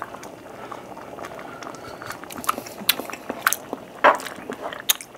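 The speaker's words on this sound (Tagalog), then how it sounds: "pag medyo kumukulo na siya" Pork belly and mung bean stew boiling in a pot, with close, irregular bubbling pops and wet blips rising over a soft, steady simmer, some pops sharper and louder than others.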